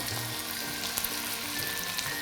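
Steady sizzling of diced onions and peppers frying in a hot pan, with small crackles and pops throughout.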